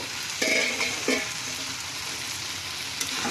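Prawns and onion stalks sizzle steadily in a pan while being stirred, with a few short scraping strokes of the utensil rising over the continuous frying hiss.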